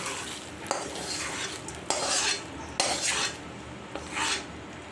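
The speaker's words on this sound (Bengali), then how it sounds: "এটা হলো তরকারিটা এটা আমি এর মধ্যে ঢেলে দেবো" Dalia upma being stirred in a pan as spiced curry is poured in, with repeated scraping strokes of a spoon against the metal and a soft sizzle, close and fairly loud, no talking.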